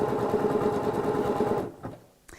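A Butterick Signature EB6100 sewing machine stitches decorative stitches with a fast, steady mechanical whir close by, then stops abruptly and a few soft clicks follow.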